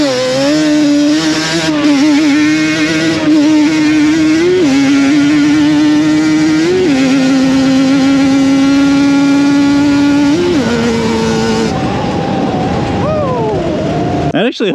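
A vehicle engine fitted with a SmartCarb or Keihin carburetor and paddle tires revs hard on a test run, loud and close, its pitch climbing and dropping through repeated gear-like surges before cutting off near the end.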